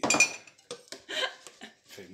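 Dishes, glasses and cutlery clink and clatter in a home kitchen as they are dried and put away, a run of close, bright knocks and chinks in irregular bursts.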